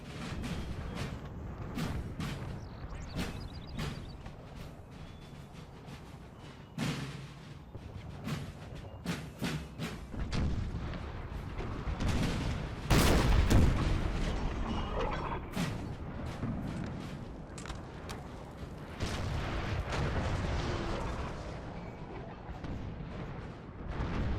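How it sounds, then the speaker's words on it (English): Cannon fire rolls across a Napoleonic battlefield at Waterloo in the strategy game Napoleon: Total War, a long barrage of heavy booms and sharp gun reports, near and distant shots overlapping in irregular bursts throughout, with no voices. "Just hearing the roll of cannon fire."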